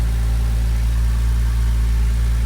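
A Porsche Boxster S engine idles steadily up close after an oil control piston and spring replacement, a low, even rumble with a constant hum and no change in pace, with no voices.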